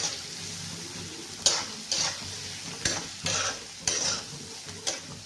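Onion and green chili sizzle in a pan for an okra dish, with a soft steady fry under a series of sharp, spaced scraping strokes as the spatula moves them around, heard close with no voices.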